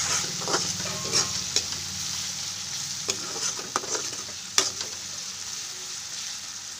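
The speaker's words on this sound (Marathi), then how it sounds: "आणि सगळं मिक्स करून घ्यायचं आहे." Fried rice with turmeric and salt gets stirred in a hot pan, a steady sizzle broken by repeated scraping strokes of the spoon, close and fairly quiet with no talk.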